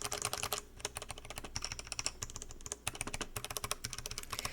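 Rapid, continuous clacking of mechanical keyboard switches, close and crisp, with a few short pauses between bursts of keystrokes.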